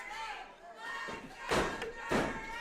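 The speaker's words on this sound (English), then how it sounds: "Dirty Daddy getting the crowd riled up here." A wrestling crowd at a live event roars and chants in swelling bursts, with thuds from the ring, while a commentator's voice runs over the noise.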